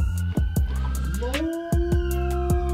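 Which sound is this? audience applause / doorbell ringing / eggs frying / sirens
sirens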